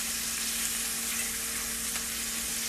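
Garlic added to shrimp in a hot pan sizzles and fries steadily, a close, even hiss with no talking.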